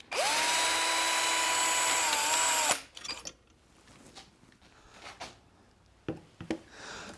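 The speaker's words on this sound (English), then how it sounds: "Always remove the drill using the forward speed of the drill." A surgical power drill runs forward during interlocking screw placement with a steady, loud, high whine for under three seconds. It cuts off abruptly and is followed by faint clicks and handling sounds.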